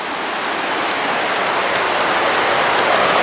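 Stream water rushing beneath a trail bridge on the Rainbow Falls Trail in Gorges State Park, a steady close broadband roar with no voices.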